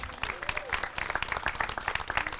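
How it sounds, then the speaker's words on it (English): An outdoor audience at the ribbon cutting ceremony for a school district agricultural project center applauds a school band, giving a short, steady patter of many hands clapping at moderate distance, with a faint voice mixed in. "Let's give them a hand."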